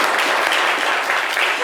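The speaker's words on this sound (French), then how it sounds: "Applaudissez pour Koulibaly, s'il vous plaît." Steady studio audience applause for a radio show caller, dense and continuous clapping at moderate loudness without a break for the whole moment.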